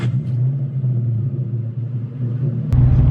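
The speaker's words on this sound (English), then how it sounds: "The idle RPM is very steady and smooth and pretty like consistent" A 2003 Mustang Cobra fitted with a Mechman alternator idles with a steady, smooth low rumble close by, the engine note deepening and swelling slightly near the end.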